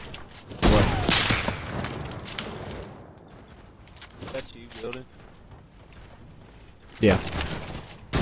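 Gun firing by itself in the video game Fortnite, sharp bursts of shots near the start and again near the end, with a voice speaking briefly between.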